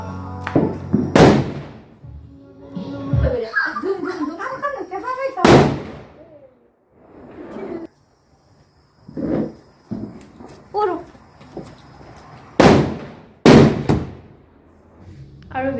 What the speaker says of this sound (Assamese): এতিয়া ফটকা চটকা বজাই থাকোঁতে ফুটাই থাকোঁতে